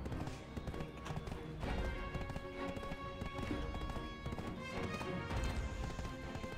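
Horse hooves in the online game Black Desert Online clip-clop in a quick, steady rhythm, fairly close and continuous over a busy game soundscape.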